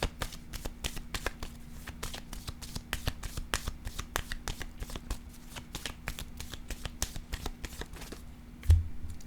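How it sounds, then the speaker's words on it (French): Tarot cards are laid down and handled in a fast, steady run of crisp card snaps and shuffling clicks, close and moderately loud, with a soft thump near the end. "Je vais déposer une autre carte ici, là."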